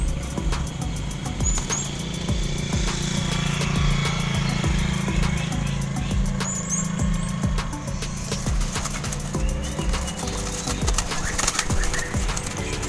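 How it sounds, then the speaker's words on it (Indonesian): Sulawesi forest pigeons (merpati hutan, pute pilis) coo steadily in a noisy outdoor setting, their low calls running throughout among other birds and a passing motorcycle engine. "burung merpati hutan ini hanya ada di Pulau Sulawesi."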